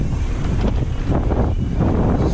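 Wind buffets the microphone on a breezy day during a Yeti 160E electric mountain bike ride, a loud, continuous rushing roar with gusty surges.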